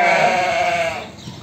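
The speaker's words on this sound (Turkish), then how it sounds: "Kaç tane koyun oldu Haşim?" A single sheep bleats on a farm, a close, loud, wavering cry lasting just over a second and fading out at the end.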